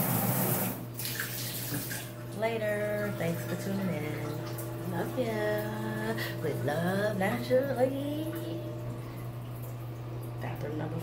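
A magnetic bathroom faucet runs steadily close by, a continuous hiss of flowing water beneath someone talking over it.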